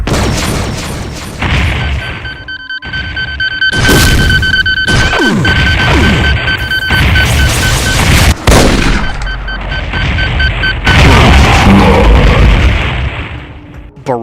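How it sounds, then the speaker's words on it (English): BFG blasts and heavy railgun shots from Cyberdemons in a modded Doom boom and crash in a loud, nonstop barrage of overlapping explosions and rapid gunfire. "barrages of round BFG shots, heavy railgun shots"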